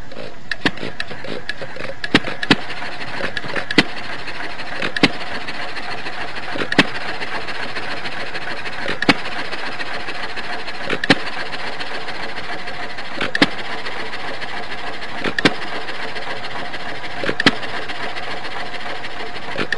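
A simulated engine runs steadily at one fixed speed, a constant mechanical drone marked by sharp regular clicks roughly every two seconds throughout.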